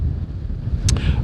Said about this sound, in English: It's a windy afternoon in UK